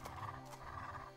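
A horse in a farming video game, a brief neigh-like whinny, quiet and blended with a thick game soundscape.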